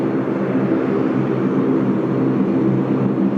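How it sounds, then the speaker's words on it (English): Dash 8 turboprop taxiing past at Sydney Airport, a steady loud engine drone with a low hum that holds evenly throughout without fading. "Lovely noisy Dash 8 about to roll past here."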